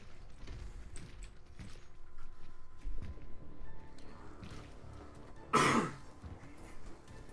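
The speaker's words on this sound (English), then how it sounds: "I apologize about my coughing." A single short, harsh cough bursts out once from a nearby person amid a low background of game sounds and faint clicks.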